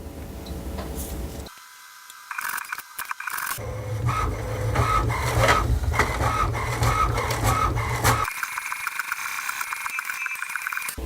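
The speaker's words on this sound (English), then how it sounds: "we may need to print an alignment page" An HP Envy all-in-one printer runs a cartridge alignment page, with mechanical whirring, feed clunks and a steady rhythmic printhead shuttling, loud and close, broken by brief pauses and no talking.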